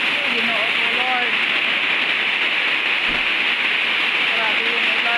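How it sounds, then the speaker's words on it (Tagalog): Heavy rain pours down steadily as a loud, dense hiss of water on surfaces, constant throughout, with a brief low thump near the middle and faint voice-like tones underneath. "Grabe yung ulan."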